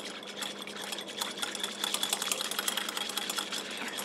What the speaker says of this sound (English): So I have my egg whites in the bowl and I just want to make sure it's whisked up slightly.